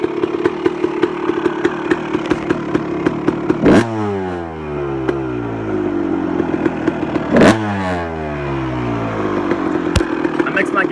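A 2001 Honda CR250 two-stroke motorcycle engine idles with a rapid, crackling putter, revved up sharply twice into loud rising-and-falling blips, then settles back to its choppy idle, close by.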